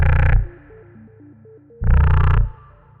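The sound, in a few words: synthesized sci-fi shotgun sonic wave sound effect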